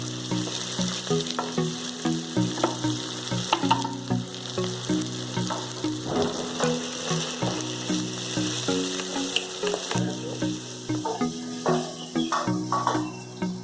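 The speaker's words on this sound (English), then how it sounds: "So oil is almost hot now. Now what we'll do? We'll put the onions here." Onions frying in hot oil for a keema-style egg dish, a steady close crackling sizzle with occasional stirring scrapes, and a low background hum running underneath.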